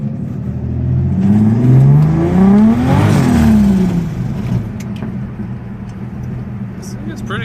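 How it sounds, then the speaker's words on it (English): An L28 engine revs hard while the car spins its wheels, a loud rising and falling roar with harmonic sweeps that peak mid-burst and then settle into a steady rumble with light background noise. "Give it a rev."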